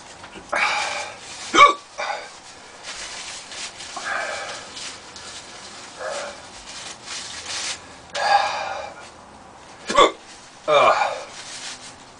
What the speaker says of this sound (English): the more I talk, the more it wants to bring the hiccups on